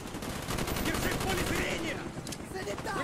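Gunfire in the Call of Duty Black Ops campaign, rapid bursts of automatic fire mixed with scattered shots and battle noise at moderate level, no clear talking.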